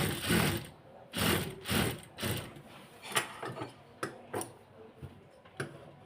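A sewing machine stitches the back neck strip of a blouse, starting with rapid mechanical whirring in bursts and then slowing to separate clicks and ticks. The sound is close and moderately loud, and nobody speaks.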